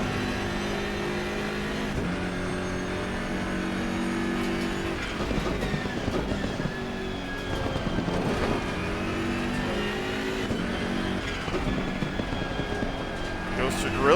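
BMW M6 GT3 race car in Assetto Corsa Competizione at the Nurburgring, its engine note rising and falling steadily as it accelerates out of corners, loud and continuous beneath someone talking.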